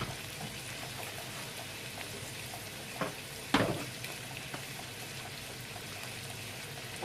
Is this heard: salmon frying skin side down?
yes